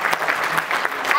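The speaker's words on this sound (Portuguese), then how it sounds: "eu peço uma salva de palmas calorosa" Audience claps warmly at a Portuguese intercultural awards ceremony, a brief, steady patter of applause heard alone.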